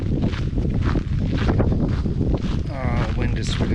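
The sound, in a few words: wind blowing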